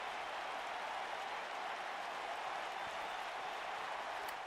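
A video game wrestling arena crowd in WWE 2K19 roars steadily as a dense, continuous wash of cheering and applause-like noise, loud and unbroken with no distinct voices.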